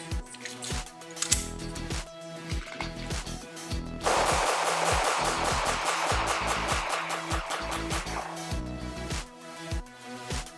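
A Gucci Glock pistol fitted with an SLR magazine fires a long run of rapid, sharp shots, loud and close, the cracks coming in quick succession with a few separate pops before and after.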